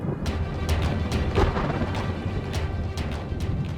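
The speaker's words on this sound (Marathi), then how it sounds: "हा विजांचा कडकडाट कसला?" Thunder crackles and booms in a storm, with sharp cracks recurring every half second or so over a continuous low rumble and faint rain. The strikes sound close and heavy, and no one speaks.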